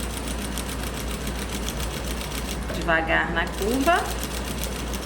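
A sewing machine runs steadily while stitching fabric bias binding, a close, even rapid whir that continues throughout as a voice speaks briefly over it.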